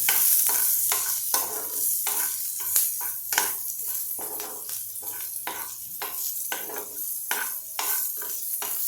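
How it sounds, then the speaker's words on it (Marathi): Onion fries in a pan until transparent, a steady close sizzle with regular scraping stirs repeating about every half second, sometimes knocking against the pan. "थोडासा कांदा आपल्याला लालसर करायचा आहे ट्रान्सपरंट तर झालाच पाहिजे"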